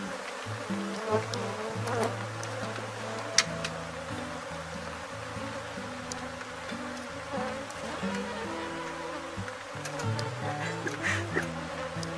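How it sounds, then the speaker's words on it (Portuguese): Africanized honey bees swarm around their hive while a colony is being split, making a dense, continuous buzzing drone that stays close and steady throughout, with no voices. "quando esse enxame sair daqui, vai vir muitas abelhas para cá"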